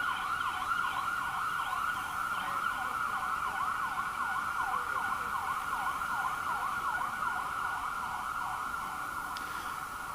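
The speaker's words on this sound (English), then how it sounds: "I'm going to wait for this ambulance." An ambulance siren wails steadily in a repeating up-and-down cycle, loud and close throughout, with faint road traffic beneath it and no talking.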